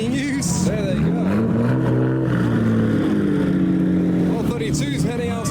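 Nissan Skyline GTR cars at a car show, R32 and R33 among them, rev loudly and pull away, engines rising and falling in pitch through the gears, close and continuous, with voices talking over the noise.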